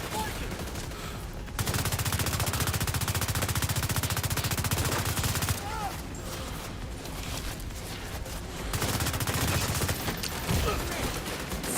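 Enemy heavy gunner machine gun fire in The Division 2, sustained bursts of rapid automatic shots that stop and restart in long stretches, loud and continuous against the game's background noise.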